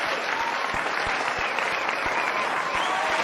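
Audience applause at a school's eleventh anniversary celebration, a steady burst of many hands clapping, loud and continuous throughout.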